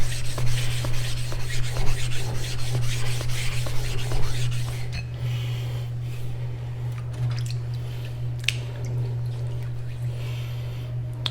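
A sharpening stone scrapes back and forth across a Double-Time lapping plate in steady, gritty rubbing strokes, loud and continuous at first, then quieter and more sporadic, over a constant low hum.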